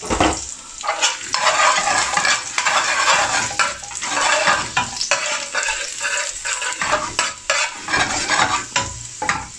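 Freshly chopped garlic sizzles in hot butter ghee while a spoon stirs and scrapes the pan, an irregular series of close clanks and scrapes over a steady frying hiss.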